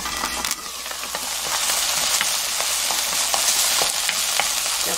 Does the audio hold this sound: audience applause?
no